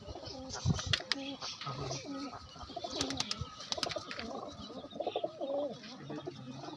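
Several pigeons cooing close by in overlapping, throaty bursts, with occasional chirps and light rustling mixed in throughout.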